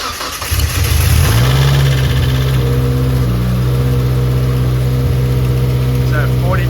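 A turbocharged Mazda Speed Protege engine cranks over briefly, then catches and settles into a loud, steady idle that hums on close by, with a person talking faintly toward the end.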